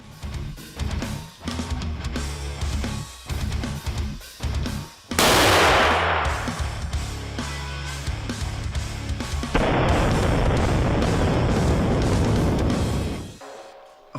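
Mini paint-filled firecracker going off among a series of sharp cracking pops, followed by a loud broadband blast and hissing burst that rings on for several seconds before cutting off.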